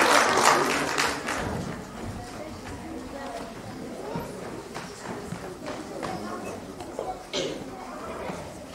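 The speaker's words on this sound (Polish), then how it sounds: "wielkie brawa" Applause from the audience at a Christmas carol and pastoral song festival, a sustained round of clapping that is loudest at the start and then thins, with chatter and voices mixed in beneath it.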